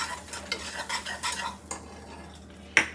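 A spoon stirs powdered sugar glaze in a sturdy-bottomed pan, with scattered scraping clinks and a sharp metallic knock near the end. The stirring is close and fairly quiet, with no talk.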